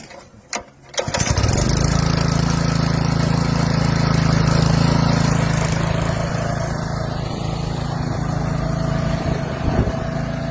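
Small petrol engine on a lawn aerator corer pulls over and fires up, then runs at a loud, steady throb close by for the rest of the stretch, with no talk over it.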